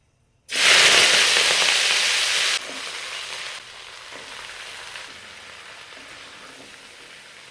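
Chopped vegetables for a vegetarian spinach curry hit hot oil with dried red chillies, bursting into a loud, close sizzle that settles into a steady, softer frying hiss, with no talk.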